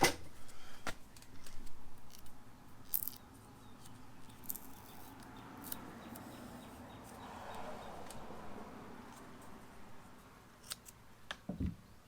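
Scissors or a blade trim vinyl racing stripe pieces for a Saturn Sky, producing sparse, faint snips and clicks over a soft background hiss at close range.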